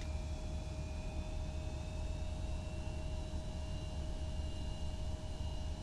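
A steady jet whine from the engines of an MD80 airliner in a flight simulator as it starts to taxi, a quiet, even hiss and rumble with thin high tones running through, no voices.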